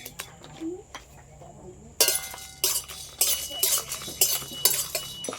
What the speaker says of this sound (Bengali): এগুলো সব খালি কড়াইতে একটু হালকা করে ভেজে নেব